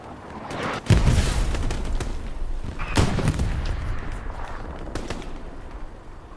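Gunshots in a competitive video game match: a few loud, booming shots with long reverberant tails, spaced about two seconds apart, over a steady background of battle noise.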